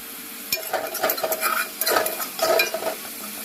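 Masala spices being stirred and fried in oil for a pomfret fish curry: a spoon scrapes and clinks against the pan in uneven bursts over a soft, close sizzle.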